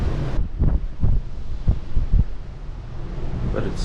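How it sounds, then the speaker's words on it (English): Strong wind buffets the microphone on the open deck of the Queen Mary 2 ocean liner, a low rumbling roar with repeated heavy thumping gusts, close and loud. "But it's still very windy."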